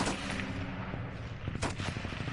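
Rapid machine gun fire in the style of a World War I weapon rated around 600 rounds per minute, a dense, continuous loud crackle of shots with sharp bursts throughout, no talking.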